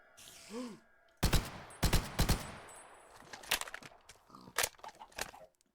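Gunfire in a video game is aimed at an entity: a faint creature-like call comes first, then loud, close bursts of rapid shots in uneven clusters that thin into scattered fainter rounds before stopping.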